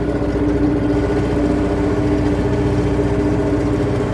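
An MTZ 892 tractor plowing in third gear at about 6 km/h, its engine laboring with a loud, steady, low throbbing drone heard up close from the cab, with no talk over it.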